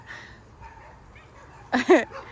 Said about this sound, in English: It seems like Dog war, between small dogs versus big dogs.